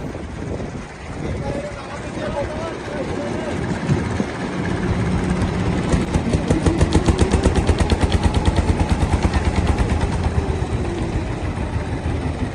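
A trawler's diesel engine in the Sundarbans near Mongla thumps in a fast, loud, steady rhythm that builds up and keeps pounding, with faint voices underneath.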